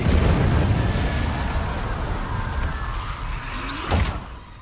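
An Incendio fire spell cast in the Hogwarts video game: a loud roaring burst of flame that slowly fades, ending with a brief whooshing flare near the end, with no one talking over it.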